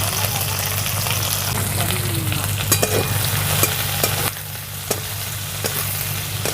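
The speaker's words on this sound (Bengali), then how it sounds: "এই তেলের মধ্যে রসুন কুচি দিয়ে দিচ্ছি, কাঁচা লঙ্কা কুচি দিয়ে দিচ্ছি আর পেঁয়াজ কুচি দিয়ে দিচ্ছি।" Chopped garlic, green chili and onion fry in hot oil with a steady, loud sizzle and stirring scrapes close by. A few sharp clicks cut through, and the sizzle drops slightly partway. A voice speaks faintly underneath.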